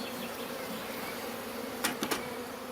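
Honeybees buzz steadily at hives in an apiary, a close, continuous droning hum with a few louder swells as bees pass near, and no talking.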